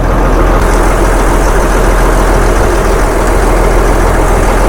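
A boat engine runs steadily on board while fish curry is cooked on deck, giving a loud, continuous low rumble and hum with no breaks and no talk over it.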